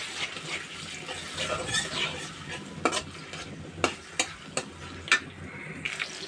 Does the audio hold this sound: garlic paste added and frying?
yes